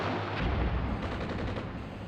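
Artillery fire in the Cold War tank game Armored Brigade 2, a dense, continuous rumble of distant shell bursts and booms rolling over one another without a break.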